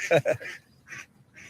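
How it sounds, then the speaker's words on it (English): Ducks quack in a short burst of two loud, close calls followed by two fainter ones, with brief pauses between them. "Oh, the ducks are laughing at you."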